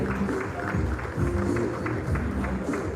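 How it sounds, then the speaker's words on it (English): Audience applause at a real estate outlook event in a hotel hall, a sustained wash of clapping at moderate level with a faint voice underneath. "Let's keep the applause coming."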